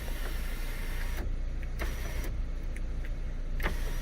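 Electric sunroof motor on a faulty 2009 Scion tC whirs steadily, opening and closing with brief clicks and whines at the motor's start and stop points, close by and without talk.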